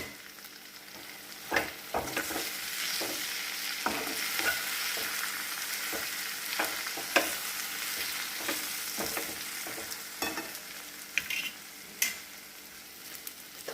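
Radish and potato vegetable with crushed peanuts is stirred in a hot pan, a soft sizzle running under repeated scraping strokes of a spoon, close and steady with no voices.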